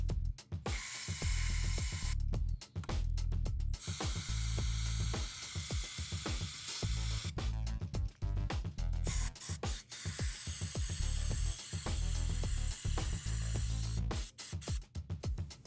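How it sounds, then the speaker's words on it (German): Brake cleaner is sprayed into the housing of an idle control valve in loud bursts of hissing spray, repeated many times with short gaps and clicking between them. "Ich sprühe den Innenraum des Leerlaufreglers großzügig mit dem Bremsenreiniger ein."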